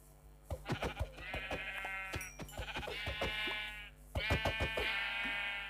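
Sheep bleat repeatedly in Minecraft Pocket Edition, a few loud, nasal, wavering calls with short gaps between them, heard near and clear.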